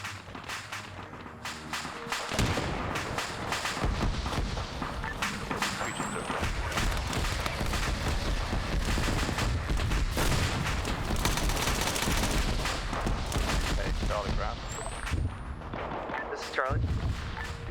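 Dense video game battle gunfire with heavy explosive hits on armored MRAP vehicles, near-continuous cracks and booms over a rumbling low end, loud throughout, with talk mixed in.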